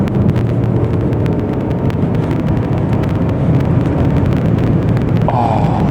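An Audi Q5 engine accelerating hard from standstill to 100, a loud, continuous drone that holds steady for several seconds with gear changes around 4,000 rpm, no talking over it.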